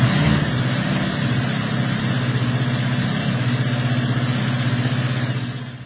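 A restored 1976 Honda drag motorcycle called the Sorcerer idles with a steady, loud, low mechanical rumble up close, then tapers off slightly at the end.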